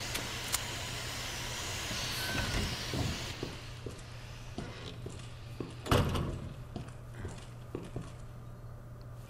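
A steady hiss of gas or steam escaping from a pipe in the Resident Evil 2 video game runs under a low droning ambience, with a few soft thuds and one louder knock partway through.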